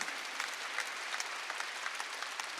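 A church congregation at a Wednesday worship service claps steadily and evenly in a sustained round of applause, fairly distant and with no talk over it.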